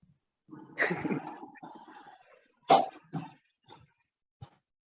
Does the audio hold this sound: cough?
yes